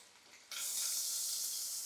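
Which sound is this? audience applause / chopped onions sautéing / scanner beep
chopped onions sautéing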